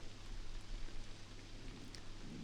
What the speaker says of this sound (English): Yeah, rain.